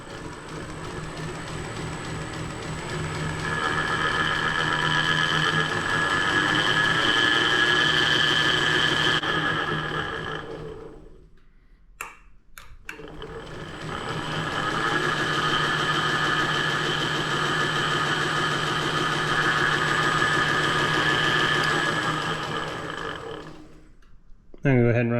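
A belt grinder used for sharpening wood carving tools runs slowly and in reverse, giving a steady, loud mechanical drone that holds for about ten seconds, cuts out briefly with a click, then starts again and runs on.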